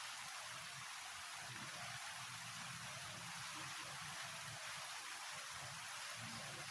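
Steady rain pours down in a continuous broadband hiss, with a soft low rumble beneath it and no voices.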